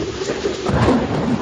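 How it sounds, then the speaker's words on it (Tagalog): Thunderstorm with heavy rain as a sound effect in a Filipino radio drama: a loud, dense wash of rainfall with a deep rumble of thunder swelling midway, no voices. "Sugod tuloy ako sa ulan ngayon."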